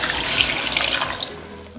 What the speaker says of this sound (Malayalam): മിക്സിയുടെ കപ്പ് കഴുകിയിട്ട് നമുക്ക് വെള്ളം ഒഴിച്ചു കൊടുക്കാം കേട്ടോ